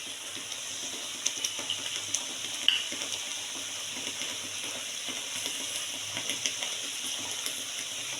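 A bottle gourd paste mixture stirred in a pan, with a soft continuous sizzle and faint scraping taps of the spoon at irregular intervals, close and fairly quiet, with no voices.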